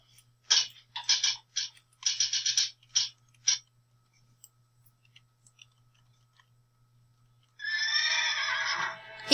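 A horse whinnies loudly and close by in a long, wavering neigh near the end, following a quiet stretch and earlier clusters of sharp, bright bursts.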